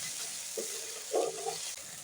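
Three slit green chillies hit fried onion paste in a hot pan, giving a steady close sizzle with a brief louder crackle and stirring scrape midway, with no talk.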